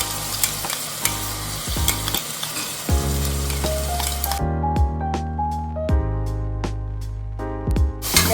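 Leftover marinade masala for biryani sizzling and frying in a pan while being stirred, a steady close crackle with occasional clicks and scrapes, and no talking.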